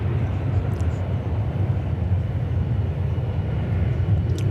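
Lufthansa airliner at Dallas/Fort Worth Airport, a steady loud low-frequency jet roar sustained throughout with no gaps, heard alone without voices.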